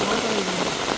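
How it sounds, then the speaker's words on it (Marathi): Heavy rain falls in a steady, loud, continuous wash outdoors on a farm near a forest, with no voices over it. "डेंजरस पाऊस पडतोय."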